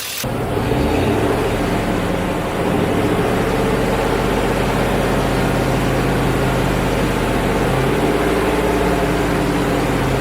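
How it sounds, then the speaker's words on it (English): A car engine runs steadily and loudly from start to finish, a constant rumbling drone without clear rises in pitch. "have the motor running, and I'm gonna go ahead and give it some revs"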